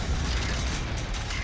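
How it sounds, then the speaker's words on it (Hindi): A tanker truck explodes in a dense, roaring blast. It is loud and sustained and fills the whole clip with deep rumbling and crackling debris noise. "वीडियो को ध्यान से देखने पर पता चलता है कि जब टैंकर फटा उस समय एक फायर फाइटर उसकी तरफ ही बढ़ रहा था।"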